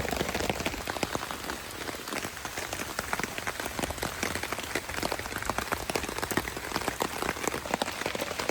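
Steady, dense rain pattering on a hard surface nearby in a forest, constant and fairly loud with no voices.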